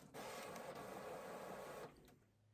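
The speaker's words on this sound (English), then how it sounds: "I sent a second copy to print." A sublimation printer runs one printing pass, a loud, steady mechanical whir lasting under two seconds before cutting off to a quiet hum, heard close up with no talking.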